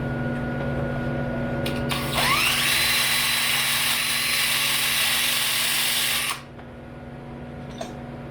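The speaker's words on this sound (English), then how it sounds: "I'm just going to wire wheel that off." A wire wheel on a power tool scours a weld on a snapped Dodge Challenger subframe, a loud, harsh, sustained whir running about four seconds before stopping, with a motor hum beneath.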